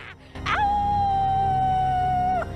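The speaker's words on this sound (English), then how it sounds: "She's now literally howling at the night sky." A girl wearing a haunted mask howls at the night sky, one long sustained steady howl lasting about two seconds, loud and close, rising at the start and dropping off at the end over a low background hum.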